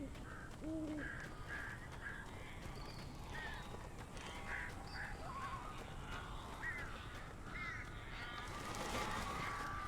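Crows caw repeatedly in the Alan Wake video game, with harsh calls scattered over several seconds at a moderate distance above a constant background rumble, and no voices.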